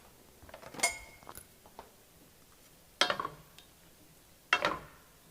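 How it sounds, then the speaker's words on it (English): Roasted zucchini pieces dropped into a pan of coconut-milk sauce, giving three separate soft clattering splats spaced a couple of seconds apart, close and fairly quiet, with no talking. "They are out of the oven, so we're just going to toss them in like so."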